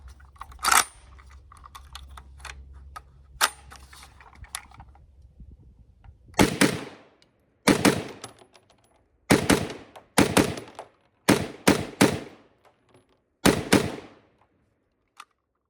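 A Tommybuilt TG36 gun fires loud, close shots in quick pairs and short bursts, about ten reports in the second half, after a quiet stretch of faint clicks and a low hum.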